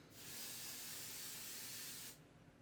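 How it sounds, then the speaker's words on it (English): A steady hiss from an aerosol can of 505 spray adhesive sprays onto fabric stabilizer for about two seconds, close and fairly loud, then stops abruptly. "I'm just going to spray the surface of the stabilizer."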